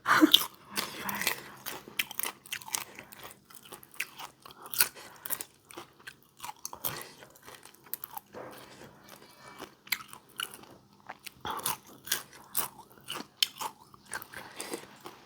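Someone eats fried mackerel with crisp, close-up crunches and bites that come in irregular bursts, with quiet pauses between them and no talk.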